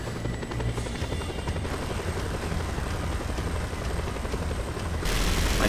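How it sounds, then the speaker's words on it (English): A helicopter in the video game Just Cause 2 gives a loud, steady rotor thrum and engine drone that grows brighter and louder in the final second, with no voices. "I'm in your helicopters."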